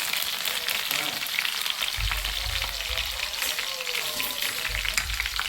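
Dried red chillies and garlic frying in a hot-oil tempering for a chilli chutney, a steady close sizzle and crackle throughout with low rumbling bursts, no talk.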